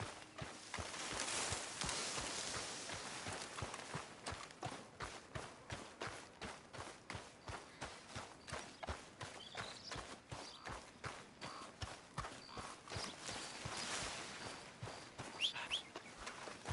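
Horse hooves clip-clop at a steady walking rhythm in Red Dead Redemption 2, close and fairly loud throughout, with faint bird calls in the background.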